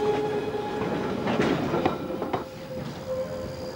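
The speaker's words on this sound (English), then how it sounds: "the last train is pulling in for the night" A London Underground Northern Line train pulling into Morden station at night, a steady loud rumble of wheels on track with faint metallic squeals and clicks as it slows, no voices.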